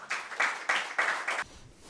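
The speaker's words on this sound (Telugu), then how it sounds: "కిషోర్ గారికి ఒకసారి గట్టి క్లాప్ చేద్దాం" An audience claps for Kishore at a New Year celebration gathering, a short burst of applause swelling in rhythmic waves before stopping abruptly.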